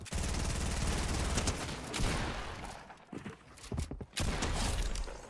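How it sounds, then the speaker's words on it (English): Rapid gunfire in Fortnite, a dense, loud volley of shots that briefly thins into scattered bursts, then resumes at full intensity. "Eminem, stop shooting me with your thing, man."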